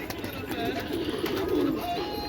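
Pigeons at a pigeon house coo in low, soft, rolling calls that swell and fade over a steady outdoor background, with faint wing movement and no voices.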